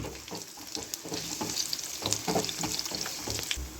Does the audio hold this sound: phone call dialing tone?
no